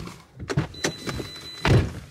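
Car doors thump shut in a parked family car, several dull knocks in a row and then a heavier final slam, close by, with a faint electronic warning tone underneath.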